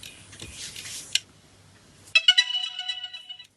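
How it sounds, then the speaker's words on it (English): Startup sound of a DJI Neo drone: a soft breathy hiss and low hum, then a bright electronic chime of several quick rising tones ringing out briefly, heard close and alone. "here's the startup sound"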